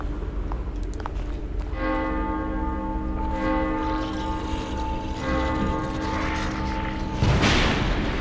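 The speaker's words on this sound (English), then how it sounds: "Who's ringing the bell?" A church bell tolls in a horror video game, a loud, sustained ringing tone that swells and lingers over a constant low rumble of background ambience, with no talk.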